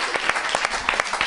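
A short burst of studio applause for a birthday on an Italian regional TV football talk show, a steady patter of many hands clapping close together from start to finish.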